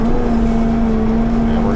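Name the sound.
engine of amphibious off-road vehicle starting with the key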